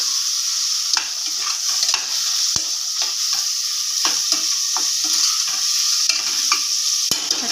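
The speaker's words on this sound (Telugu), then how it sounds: "టమాటాలన్నీ బాగా మగ్గనిచ్చేయాలి" Tomatoes with biryani masala powder sizzle steadily in a pan, a bright continuous frying hiss broken by repeated scraping stirs and spoon knocks, close and loud with no talk.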